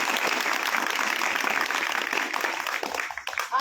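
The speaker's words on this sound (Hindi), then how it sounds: "जोरदार तालियों के साथ" Applause from an audience at a farewell evening held at Dalit Shakti Kendra, a dense, steady wash of many clapping hands that thins and breaks up near the end.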